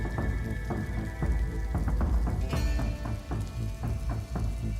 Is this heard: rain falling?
yes